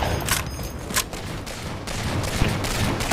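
Rapid bursts of gunfire from a sniper rifle in the Halo video game, several sharp cracks at irregular intervals over a busy game soundscape.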